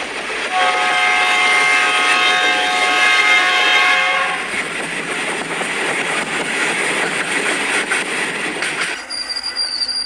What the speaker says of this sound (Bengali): ট্রেনটি করিমপুর এসে থামল।